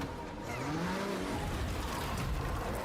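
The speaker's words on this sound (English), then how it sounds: "how can you resist a little wheel spin flex, right?" In a scene from the film Evil Dead Rise, a car spins its wheels as the engine revs hard and the tires squeal, a loud continuous roar with no talking.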